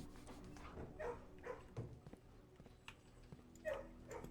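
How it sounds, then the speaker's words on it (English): A dog barks in the video game Blue Prince, a few short yips and barks spread across a few seconds, fairly faint against a quiet background. "Hello, puppy."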